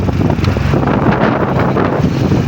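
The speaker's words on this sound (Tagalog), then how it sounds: "Mahangin na." Strong wind buffets the microphone in a loud, constant roar with gusty fluctuations, and no one speaks.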